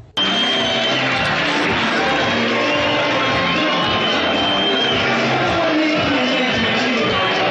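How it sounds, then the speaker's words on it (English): A large stadium crowd roars continuously, a dense wash of shouting and cheering voices that stays loud from start to finish. "The arrival of crowd."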